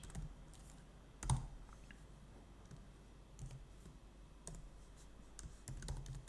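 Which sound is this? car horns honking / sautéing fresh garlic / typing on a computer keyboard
typing on a computer keyboard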